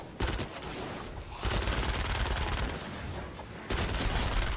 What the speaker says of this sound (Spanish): ¿hay otro que está disparando?